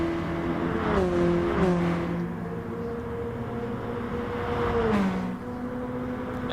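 Race car engine in GT Sport, a steady loud drone with pitch rising and falling through gear changes and corners, plus a brief tire screech.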